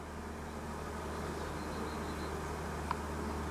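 Bees fly out of a young hive entrance, a faint, steady buzzing hum close by with a soft drone underneath and a brief high click near the end.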